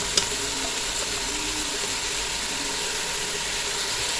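Roughly chopped medium onions sizzling in hot oil in a pan for beef korma, a steady, even hiss with a faint clink near the start and no talk.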